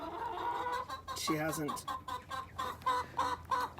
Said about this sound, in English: the chickens are yelling at me.